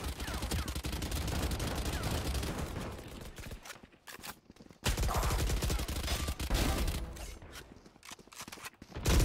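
Gunfire from the video game Valorant during a match: rapid bursts of shots and mechanical weapon clatter at moderate loudness, with short pauses between volleys.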